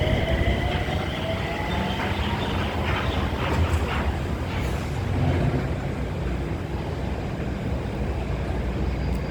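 A Mitsubishi Crystal Mover C810 light rail train on the SBS Transit LRT runs between stations, giving a loud, continuous rumbling roar with rising electric whine and clattering wheels, steady throughout and free of voices.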